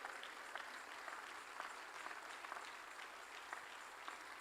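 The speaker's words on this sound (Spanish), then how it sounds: "denle un aplauso al Señor si usted lo cree" A church congregation claps steadily throughout, a dense, even wash of applause at moderate level with no voices standing out.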